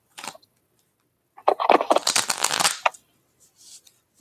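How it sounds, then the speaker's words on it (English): Tarot cards are shuffled by hand in a quick riffle burst preceded by a brief flick, close and crisp, with no talking. "I'm going to get a good shuffle on the cards here."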